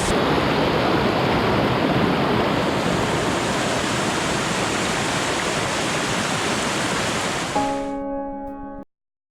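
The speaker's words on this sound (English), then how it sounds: "This is Sangara waterfall behind me." Sangara waterfall on Iriomote Island roars as a steady, loud, broadband rush of falling water that runs unbroken before cutting off abruptly at the end.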